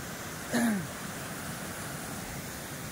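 Water rushes steadily at Kawa Falls, a waterfall, making a constant broadband roar throughout, with a brief shout rising above it near the start.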